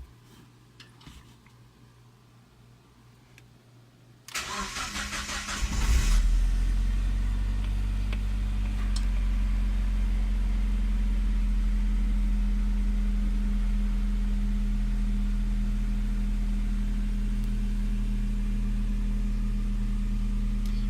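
A Megasquirt-tuned car engine cranks briefly, catches and settles into a steady, loud, close idle that runs continuously with a constant low hum and no talk.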